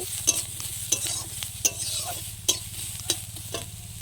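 Spinach for dal frying in a pan, with a steady sizzle beneath repeated sharp spatula scrapes and taps, several per few seconds, close and clear with no voices.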